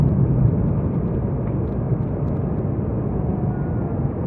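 Steady, loud low-frequency roar inside the cabin of a JetBlue airliner in flight, an unbroken engine and air rush with no voices.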